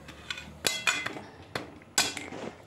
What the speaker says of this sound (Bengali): এখন এটা ঢাকা দিয়ে দেব।